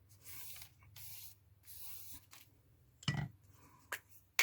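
Short bursts of a spray bottle misting water onto a page, several quick hissing puffs with pauses between them, close and fairly quiet, ending with a few sharper clicks.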